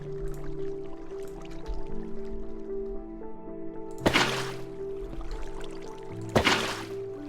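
Water placed in Minecraft, heard as two bursts of splashing liquid over steady game background tones with soft drips and gurgles between them.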